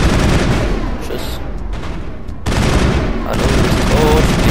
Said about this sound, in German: ist das ein Schuss? Das ist ein Schuss.